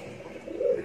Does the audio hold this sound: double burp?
no